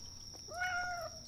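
A cat gives one short, rising-and-falling meow in the video game The Bathhouse, heard clearly over a faint steady tone and quiet background, with no talking.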